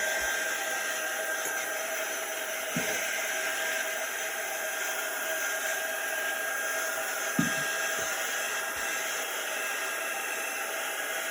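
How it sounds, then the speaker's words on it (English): Chalk Couture quick dry tool blowing air over a chalked tile for a wreath craft, a steady, loud and even rush of air that holds throughout with a few faint knocks. "So we're gonna use our quick dry tool. So let's dry this."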